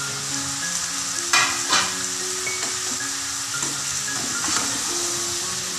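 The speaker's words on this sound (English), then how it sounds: "Fry up the soybeans nicely." Soybeans fry in a pan with a continuous bright sizzle, broken by a couple of sharp utensil scrapes and clinks as they are stirred.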